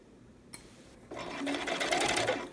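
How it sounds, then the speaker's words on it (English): A domestic sewing machine runs a quarter inch seam, starting with a click and then a steady, close whirring stitch run that holds for about a second and a half before easing off. "Let's go to the machine. Okay, now we're going to sew another 1/4 inch seam."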